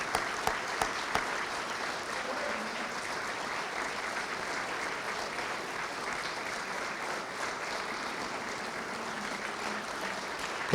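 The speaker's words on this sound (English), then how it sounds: "you can give them a big standing round of applause" A standing crowd at a Florida Inventors Hall of Fame induction ceremony gives sustained applause, with a few sharp claps at the start before a dense, steady wash of clapping fills the hall.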